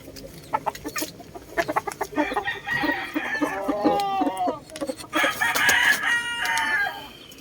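Several fighting roosters crow in overlapping bursts, loud and close, with clucking and rustling in between and no talking.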